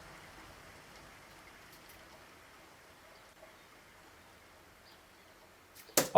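Soft, steady rain patters throughout as a sound effect in a song, faint and even with no music over it, ending in a few brief louder knocks.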